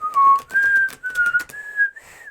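A person tries to whistle, producing a few short, wavering, breathy notes with uneven pitch and gaps between them.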